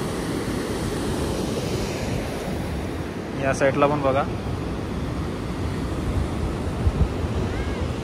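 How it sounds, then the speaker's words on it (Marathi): Fast-flowing river water rushing beneath a bridge near Manikaran, Kasol, a steady broadband roar filling the whole clip, with a brief spoken remark partway through. "पाणी बघू शकता कसं येतं, एकदम डेंजर आहे."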